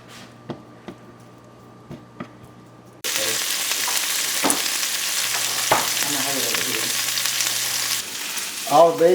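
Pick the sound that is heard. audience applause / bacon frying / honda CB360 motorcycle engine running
bacon frying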